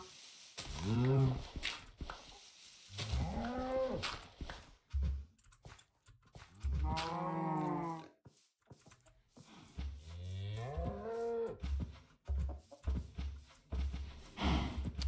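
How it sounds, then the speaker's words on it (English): Cows mooing in Minecraft, several drawn-out low lowing calls in a row, loud and close, with short gaps and small clicks between them, and no talk over them. "I did see some more cows over here"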